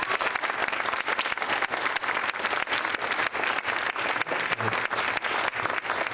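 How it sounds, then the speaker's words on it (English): An audience at a community talk on recycling and going a year without garbage breaks into steady, loud applause, dense clapping sustained throughout with no pause. "Can we have another round of applause? For her?"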